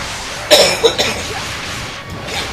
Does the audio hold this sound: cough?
yes